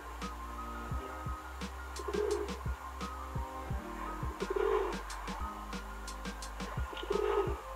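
A domestic pigeon cooing, soft repeated low rolling coos in a steady rhythm, close and alone, with a few faint clicks in between.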